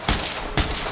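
Two sharp, loud gunshot bursts from the tactical shooter Ready or Not, with a third shot beginning at the very end, fired in quick succession during a police breach.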